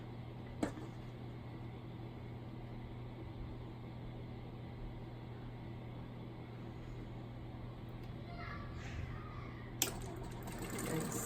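Domestic sewing machine stitching a quilt block, a faint, steady mechanical hum running continuously throughout, with a couple of brief clicks and some faint background noise near the end.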